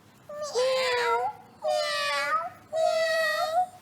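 A person imitates a cat, giving three drawn-out, high meows one after another with short pauses between them.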